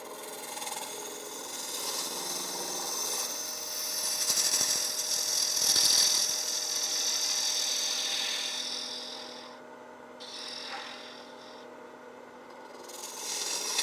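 Wood lathe with a bowl gouge cutting a blank of laminated paper, giving a steady scraping, rasping cut that swells and fades over several seconds without talk, with brief pauses toward the end.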